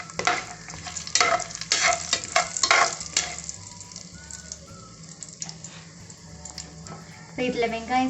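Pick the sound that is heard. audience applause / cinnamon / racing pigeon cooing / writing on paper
cinnamon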